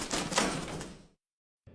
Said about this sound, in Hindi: पिंजरे का दरवाजा बंद हो जाता है और वो उसमें फंस जाता है